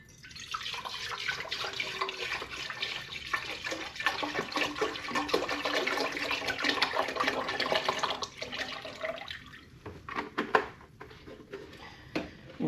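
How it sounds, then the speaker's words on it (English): Half a gallon of apple cider pours into a big pot on the stove, a steady liquid gush that rises and falls over several seconds before trailing off into drips and splashes. "Now to my big pot on the stove, I'm going to add a half a gallon of apple cider."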